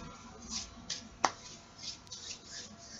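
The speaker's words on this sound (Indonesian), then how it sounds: "usap, tepukan biar debunya berkurang" Hands patted together to knock dust off during tayammum: a few soft, quiet claps and taps, one sharper slap standing out in a calm, faint room.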